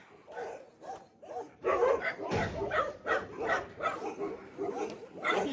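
Several dogs bark and yip at a dog rescue shelter in Ladakh, India, in rapid, overlapping bursts throughout, moderately close, with a person talking underneath.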